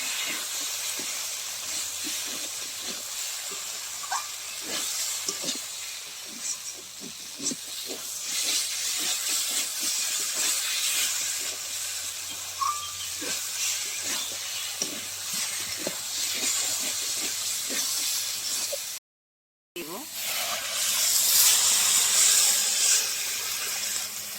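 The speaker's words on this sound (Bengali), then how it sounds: "এবার আমি ডালটাকে মশলার সঙ্গে ভালো করে কষিয়ে নেব।" Fried moong dal is sautéed with spices in a hot pan, giving a steady close sizzle and hiss broken by scraping stirring strokes, with a brief dropout near the end.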